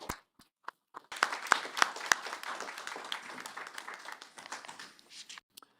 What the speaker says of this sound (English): So big round of applause for our staff.